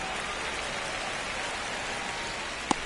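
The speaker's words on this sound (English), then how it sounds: "This rain is not letting up." Steady rain hisses down in a baseball video game during a Red Sox at Orioles match in Baltimore, an even wash of drops at moderate level with one brief click near the end.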